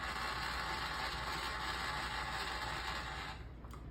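A milling cutter being pulled gently through a radius slot in metal on a machine, giving a steady mechanical whir and hum with faint ratcheting texture, easing off near the end.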